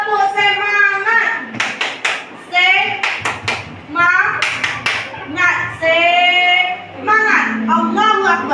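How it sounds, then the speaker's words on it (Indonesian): A group, likely schoolchildren, claps in rhythm in short clusters between a teacher's spoken instructions, fairly loud and close. "coba kita tepuk semangat dulu"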